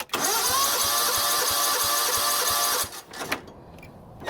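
A John Deere GT245 lawn tractor engine cranks over, a loud close whirring starter with an even rapid chugging beat for a few seconds, then cuts off to quiet clicks and shuffling.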